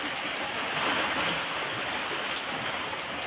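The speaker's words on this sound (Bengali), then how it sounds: "তো প্রচুর ঝড় বৃষ্টি হচ্ছে এখন" Heavy rain and wind from a storm pour in a dense, continuous rush of water noise, with occasional gusty swells and no voices.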